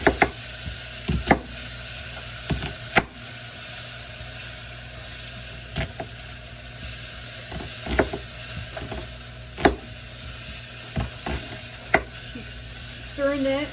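Onions with garlic are stirred in a pan, with a spoon knocking and scraping at irregular intervals over a steady low sizzle, close and clear.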